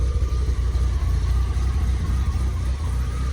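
A Tofaş car engine idling, a steady low rumble that stays even and fairly loud throughout, close by, with no speech over it.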